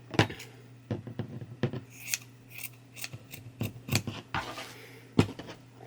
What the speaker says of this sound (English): Nice sharp pair of scissors.